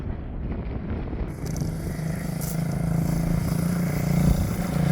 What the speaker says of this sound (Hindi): हवा बहुत तेज़ है